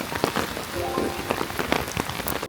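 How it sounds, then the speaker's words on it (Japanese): Heavy rain pours down steadily in Matsunoyama hot spring town in Niigata, a dense, close hiss with scattered louder drops spattering on surfaces. "大雨なんですけど"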